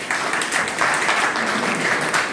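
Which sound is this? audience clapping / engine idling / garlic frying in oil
audience clapping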